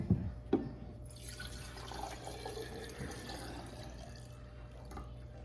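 Water pours in a soft, steady trickle into a purple jar holding a sweet potato after a couple of clinks, continuing gently with a faint splash near the end.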